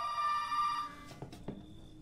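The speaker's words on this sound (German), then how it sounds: "Und da klingelt auch schon das Telefon." A telephone rings inside the Resident Evil 7 horror game, a steady electronic trill lasting under a second, followed by a few soft thumps and a faint lingering tone against quiet ambience.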